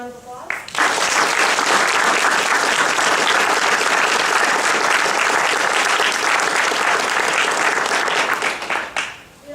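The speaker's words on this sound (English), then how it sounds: "Let's give them one round of applause." An audience applauds panelists at a recruiting and hiring event, a loud, sustained round of clapping that starts abruptly, holds steady for about eight seconds and then fades.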